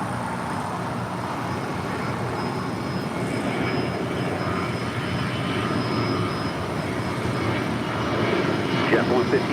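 A United Airlines Boeing 757-200 arriving at LAX from Newark makes a steady, moderately distant jet roar that swells slightly toward the end, with a faint tonal whine riding over the broadband rumble.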